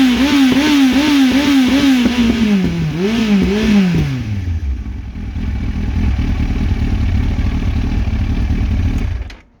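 Bernard, a motorcycle, runs loud and close with a rising and falling revving engine for about four seconds, then drops to a steady, rough idle that cuts off at the end.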